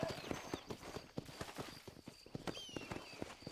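Horse hooves clip-clop in the video game Red Dead Redemption, a steady run of quick, close, sharp hoofbeats on hard ground that keeps an even rhythm over soft ambient game sound.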